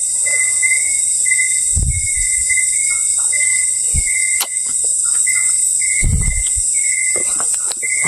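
In a dark forest, a bird's high calls repeat in short, steady bursts over a constant shrill insect drone, with a few faint low thumps nearby.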